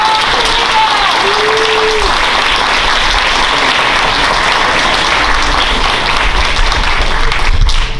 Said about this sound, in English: let's give our students one more round of applause